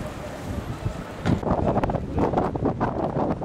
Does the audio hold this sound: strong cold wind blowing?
yes